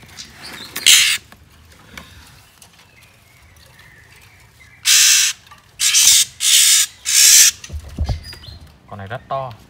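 Than mép, a wild songbird, calls in a series of loud, high, harsh bursts, with a few scattered notes before them and softer chirps trailing after.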